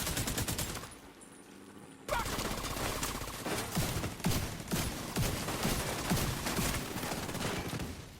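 Gunfire in the video game The Division 2: a single muffled shot, then a brief pause, then sustained rapid bursts of automatic fire with sharp repeated cracks over a dense, loud battle din.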